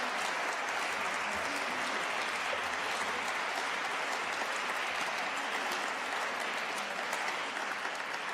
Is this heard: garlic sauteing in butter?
no